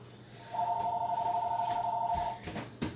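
A home telephone rings in one long steady electronic tone lasting about two seconds, fairly close and clear, followed by a brief clatter with no one speaking.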